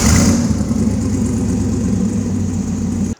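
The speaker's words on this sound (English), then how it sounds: "Power comes from an LS3. That's a 6-liter V8." A 6-liter LS3 V8 swapped into a 1975 Datsun 260Z idles with a deep, steady throb and a slight lope, loud and close, alone, cutting off abruptly at the end.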